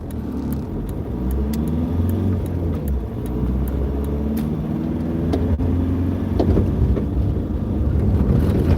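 Steady engine drone and road rumble from a Mitsubishi Outlander driving over a rough, bumpy road, heard from inside the cabin with occasional light rattles and knocks, continuous and moderately loud, with no voices.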